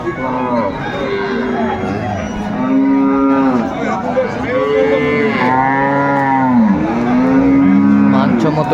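Cows and calves mooing repeatedly at Aftabganj cattle market, Dinajpur, long low calls overlapping one another, close by, with a busy background of voices and animal noise throughout.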